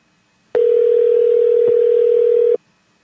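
A steady telephone dial tone sounds loud and close for about two seconds, on its own, cutting in and out abruptly, as a radio call-in call is placed.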